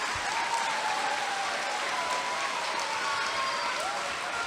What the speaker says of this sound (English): Please join me in giving our staff a round of applause for their unwavering passion.